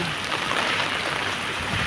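Dense, steady hiss of heavy typhoon rain in Hong Kong, under typhoon signal no. 10, pouring down with a constant windy roar, loud and unbroken throughout.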